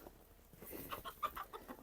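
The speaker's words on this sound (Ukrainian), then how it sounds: "Дивись, куречки ходять." Several soft, short chicken clucks come in quick succession, faint and close by, from hens walking about a village farmyard in winter.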